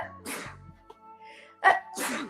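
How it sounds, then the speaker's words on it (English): One person sneezes close by during a casual live chat: a sharp breathy burst, a quiet pause, then a second loud explosive sneeze trailing into a breathy exhale. "Oh, a sneeze."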